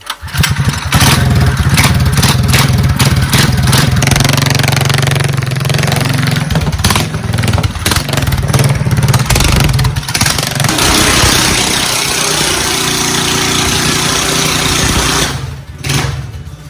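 An ATV engine runs loud and close in a garage. It holds a rough, steady drone with uneven revving pulses and cuts out near the end.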